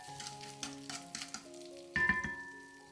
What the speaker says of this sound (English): I'll stir just a little to distribute the sugar more evenly.